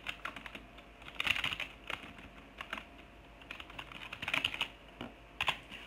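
Keys clatter on a computer keyboard in irregular bursts of quick taps with short gaps between, close and fairly quiet, with no voices.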